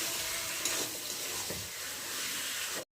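Chicken and potatoes fry with spices in a pan, a steady, close hiss and crackle that runs for a few seconds before cutting off abruptly.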